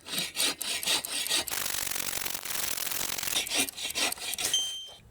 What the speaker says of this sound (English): Let's have another go, this time with the Agawa Canyon saw.